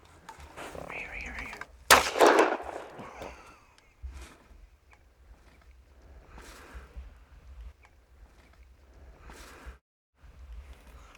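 A suppressed SALVO rifle fires a single sharp, muffled report during a predator hunt outdoors, followed by quieter rustling and soft speech from the hunters.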